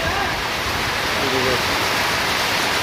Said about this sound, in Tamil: பயங்கரமான மழை பெஞ்சிட்ருக்கு